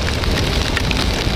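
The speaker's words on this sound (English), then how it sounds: "I just want to pass this patch of rain, which has got a little heavy for my liking" Heavy rain during a solo motorcycle ride from Srinagar to Kargil, a loud, dense and unbroken hiss of drops with no voices.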